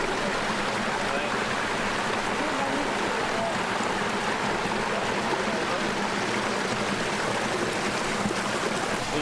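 Natural creek water on a plantation flowing steadily at a deep spot, a continuous broadband rush and burble close by with no break throughout.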